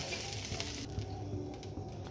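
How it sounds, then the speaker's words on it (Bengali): Potatoes coated in salt and turmeric fry in hot oil with a steady, close sizzle and crackle that eases slightly partway through. "এবার আলুকে আমি ভেজে নেব।"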